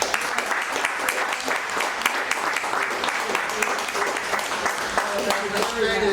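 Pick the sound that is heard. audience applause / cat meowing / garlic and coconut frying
audience applause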